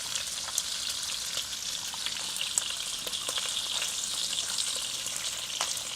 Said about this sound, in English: pans of bacon cook a little bit faster?